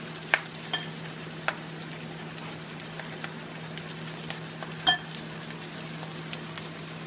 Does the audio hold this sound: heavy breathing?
no